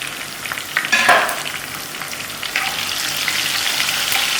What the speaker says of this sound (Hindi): थोड़ा सा चमचा चलाएँगे